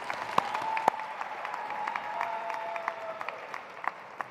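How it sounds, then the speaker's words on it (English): An audience at a university new-student convocation applauds campus leaders, a steady wash of clapping with a couple of sharp louder claps early on, gradually thinning toward the end. "Let's have a round of applause for these fantastic campus leaders and our alma mater."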